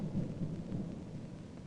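A low, deep rumble of thunder rolls briefly and fades, heavy in the bass and fairly close.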